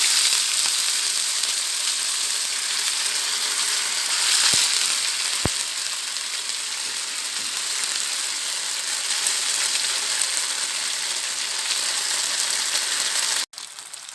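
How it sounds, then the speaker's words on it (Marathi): Marinated paneer shallow-fries in hot oil in a frying pan for a garlic paneer tikka, with a steady, close, continuous sizzle. Two brief clicks break in, and the sound cuts off abruptly near the end. "हे जे मॅरिनेट केलेलं पनीर आहे हे आपण शॅलो फ्राय करून घेऊया"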